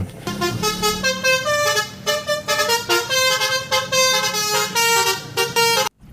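A loud musical bus horn plays a bouncy multi-note melody close by, notes shifting in pitch in quick succession before cutting off abruptly.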